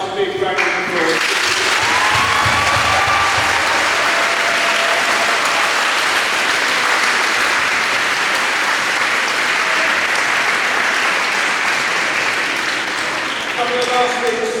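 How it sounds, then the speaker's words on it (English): A big round of applause from a school audience at a celebration day and garden party prom, loud and sustained for the whole stretch, with a few voices near the start and end. "everybody here needs one last big round of applause"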